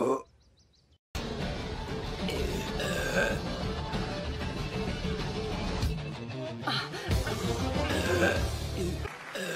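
A female cartoon character lets out a burp, a short drawn-out belch near the start, followed by a dense mix of cartoon voices, music and effects.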